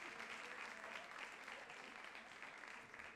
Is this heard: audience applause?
yes